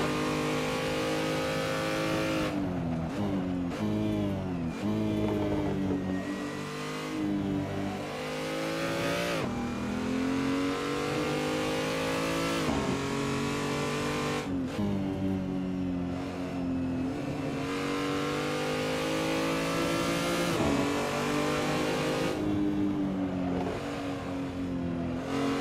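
BMW race car engines roar at Laguna Seca in Assetto Corsa, loud and close, with steady revving that climbs and drops through repeated gear shifts and bursts of acceleration, with no talk.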